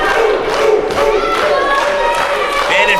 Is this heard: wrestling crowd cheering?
yes